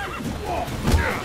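A horse in The Witcher 3 gives a short whinny in game sound, brief and mid-distance, with someone talking over it.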